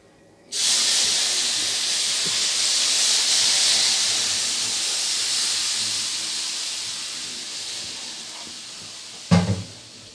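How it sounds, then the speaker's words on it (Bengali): Water poured onto roasted semolina in a hot pan bursts into a loud, sustained steaming hiss that slowly fades, ending with a brief clatter of a utensil; no talking. "এবার এখানে অ্যাড করে দেবো জল।"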